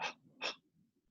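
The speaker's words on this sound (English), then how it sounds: "Then you're going to start doing huffs where you have little huffs, medium huffs, big huffs." Two short, sharp exhaled huffs of breath from a person doing a breathing exercise, close and distinct, separated by a brief pause and followed by quiet breathing.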